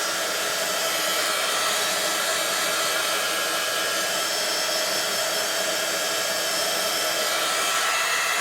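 A handheld heat tool blows hot air onto the back of a stamped paper card, a loud, constant, close-up whooshing fan roar that runs unbroken throughout without any talking.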